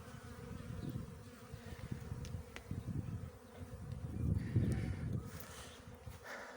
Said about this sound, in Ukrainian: дуже так бджоли сильно облітаються